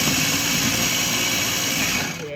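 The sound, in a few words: electric food chopper running while making dog food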